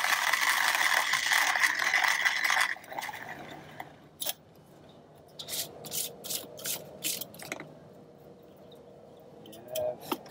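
Cafflano Klassic hand grinder crushing coffee beans: a steady dense grinding rasp for the first few seconds, then intermittent crunchy ratcheting bursts and scrapes as the crank turns, close and fairly quiet with no talk.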